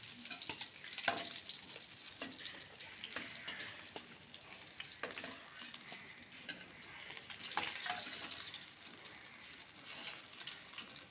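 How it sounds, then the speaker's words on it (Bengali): Fish fried until red in hot oil in a home kitchen, lifted out of the pan: a steady, fairly loud sizzle and crackle throughout, with scattered scraping clinks of a utensil, close and without talking. "দেখুন মাছগুলো ভালো করে ভেজে নিয়েছি লাল করে, এবার আমি তুলে নিচ্ছি মাছগুলো"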